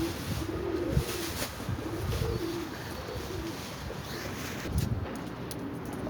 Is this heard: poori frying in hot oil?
no